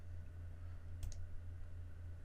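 One quick, sharp computer mouse click, almost doubled, stands out once against a low, quiet electrical hum in an otherwise still room.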